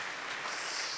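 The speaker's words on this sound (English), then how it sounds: "so if you want to give them a round of applause, Amanda will hear you from the nursery." A steady wash of clapping from a church congregation, dense and even throughout the short moment.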